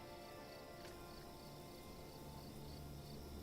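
Night-time crickets in the game Manor Lords keep up a soft, steady chorus of shrill chirps, quiet but unbroken, with no speech.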